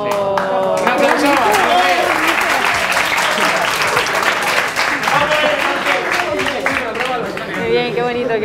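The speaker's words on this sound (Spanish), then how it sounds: "¡Un aplauso!" Loud, sustained applause from a school audience at an IES La Asunción show, dense clapping with cheering voices and chatter mixed in.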